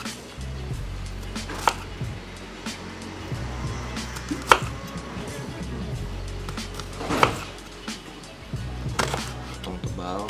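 Knife chopping shallots into thick pieces on a board while preparing a grouper dish, with sharp, irregular chops spread across the clip over a low background hum and some speech.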